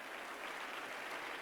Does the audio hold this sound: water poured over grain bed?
no